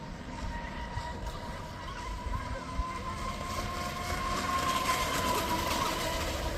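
A TFL Cheetah RC boat runs across a lake at around 40% throttle, its motor giving a steady, sustained high whine over broadband water and wind noise, fairly constant and mid-distance throughout.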